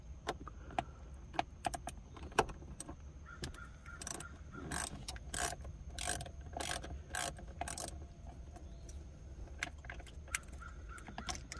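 A hand ratchet with an 8 mm socket works a bolt during a Pontiac Bonneville fuel pump replacement, giving bursts of quick, crisp clicking strokes, close and fairly quiet, with a faint steady hum beneath.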